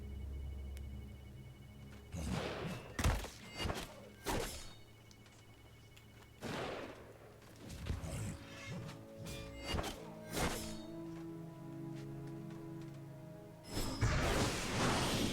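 Sniper shots in the video game Death's Gambit, a run of heavy thunks and whooshing impacts, several sharp hits spread over a game soundtrack with no voice.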